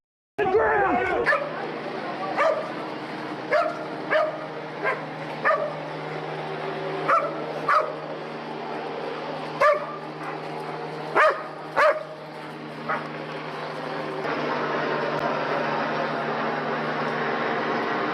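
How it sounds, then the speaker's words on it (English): Police dogs bark in a run of sharp, evenly spaced barks during a search-warrant raid, fairly close over a constant background hum, with a steadier drone near the end. "Not when they bring out those dogs."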